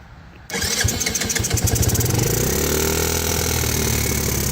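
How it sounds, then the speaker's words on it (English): A 1985 Yamaha Moto 4 80cc ATV engine with a dirty carburetor and an exhaust leak starts after a brief quiet moment, then settles into a loud, steady, close idle with a rapid puffing exhaust rhythm. "It's gonna stall because the carburetor definitely needs to be cleaned, and it's got an exhaust leak."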